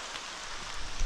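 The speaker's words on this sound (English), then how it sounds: "Well, it's raining." Rain patters steadily onto leaves along a forest trail, a dense even hiss of drops, close and fairly loud, with no voices.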